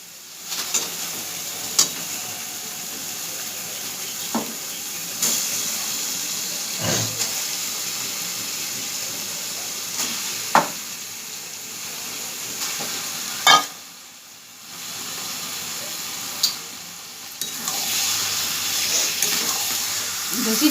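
Spiced tomato masala for chicken sizzling and being stirred in a pan: a continuous close frying hiss with scattered scrapes and clanks of the spoon, and a brief quiet dip midway.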